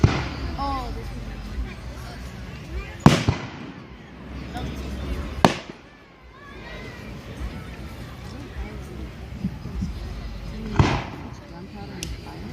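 Fireworks burst at a hometown Independence Day show, with three sharp loud bangs spaced several seconds apart over a crowd murmur. People talk throughout.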